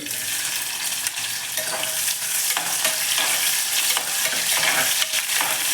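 Mustard seeds, curry leaves and chopped onion stir-frying in oil for a Mangalore-style batani sagu, making a steady close sizzle with light scraping stirs over it, uninterrupted and without speech.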